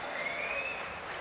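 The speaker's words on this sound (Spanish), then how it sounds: "¿Son esos aplausos para los casters son o para los jugadores?" A crowd at a Counter-Strike esports match in Seville applauds in a dense, continuous wash of clapping that holds steady for about a second.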